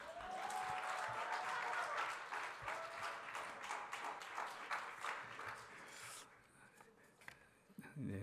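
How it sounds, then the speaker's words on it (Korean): Congregation applauding at a youth church worship service, a steady wash of clapping hands filling the room for about six seconds before thinning out into scattered claps and quiet. "박수가 생각보다 적습니다."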